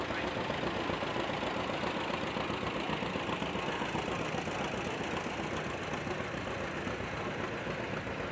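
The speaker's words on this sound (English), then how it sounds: "Here we have a 1939 John Deere A 3840 style 4-speed." A 1939 John Deere A 4-speed tractor running on kerosene at a steam show chugs steadily, its two-cylinder engine giving a loud, continuous knocking rumble close by throughout.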